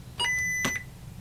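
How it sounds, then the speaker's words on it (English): A single steady electronic beep from an E&L MK-80Z micro trainer lasts about half a second, clear and alone over faint background hum. "we should get a half-second beep"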